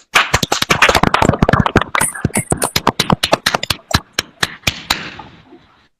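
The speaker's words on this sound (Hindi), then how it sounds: "हमारे ग्रेट सीईओ के लिए एक जोरदार तालियों की गूंज हो जाए" Loud, close applause for a company CEO at a corporate gathering: dense, rapid clapping that builds quickly, holds for several seconds, then thins into scattered, slowing claps before dying away.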